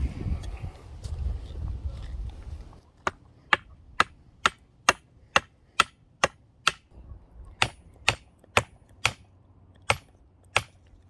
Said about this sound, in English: I just need to hammer that top in now